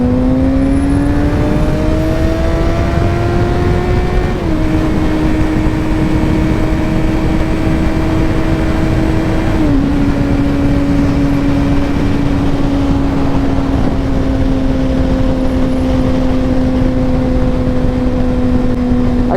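A 2022 Kawasaki ZX6 600cc motorcycle cruises along, its engine droning steadily with a loud, rising whine that drops at two gear shifts, all under constant wind rush.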